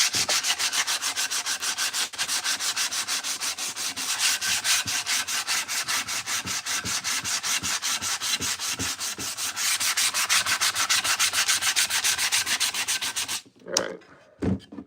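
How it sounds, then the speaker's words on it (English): A Bosch sander works over a wooden cutting board with a steady, close, rasping whir that runs almost continuously before cutting out near the end. "This sander actually came with a hole punch to do that with, Souls."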